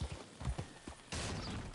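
Horse hooves clip-clop in Red Dead Redemption 2, a brief, quiet run of hoofbeats that shifts into a steadier rustling wash partway through.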